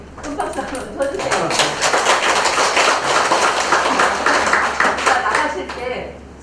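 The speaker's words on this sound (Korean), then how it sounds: "큰 박수 한번 쳐주세요" An audience applauds at a speech contest in Boryeong, South Korea, a steady dense patter of clapping that swells and holds for several seconds, with some voices mixed in.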